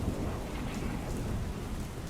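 Heavy rain pours down in Junagadh during a thunderstorm, a dense constant hiss over a deep low rumble of thunder, with no voices.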